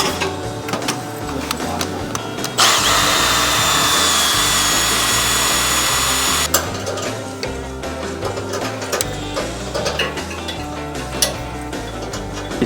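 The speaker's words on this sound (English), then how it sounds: "So I'm gonna drill these out." A drill bores out an ignition coil bracket on an Outlaw Pro Mod VW rebuild, a loud steady whine with a high squeal for a few seconds between shorter bursts and clattering shop noise.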